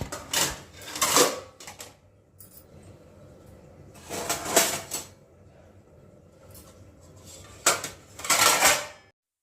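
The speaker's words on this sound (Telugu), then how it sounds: "ఒక పక్కన ఈ గిన్నెలు కూడా కడిగేసి స్టాండ్లో పెట్టేశాను" Washed steel dishes set into a dish stand in a home kitchen, three separate bursts of clattering metal clinks and knocks with quiet pauses between, close by and without talk.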